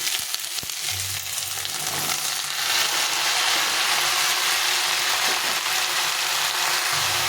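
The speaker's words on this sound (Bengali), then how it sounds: "এই সব সবজিগুলো দিয়ে দিয়েছি একটু নাড়াচাড়া করে ভেজে নেবো" Mixed vegetables for a Bengali labra curry are stir-fried in a pan, giving a continuous close sizzle with occasional clinks and scrapes of stirring, no talking.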